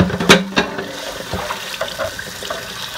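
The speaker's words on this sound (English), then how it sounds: "Cold water in the pot in the skillet." Cold water hits a hot skillet, giving a few sharp splashes and running-water noise over about three seconds, close and fairly loud with no talking.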